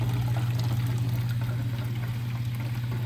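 Power-bank water pump drains a camper's water tank, pulling water through a hose with a steady, close hum and a continuous rushing trickle.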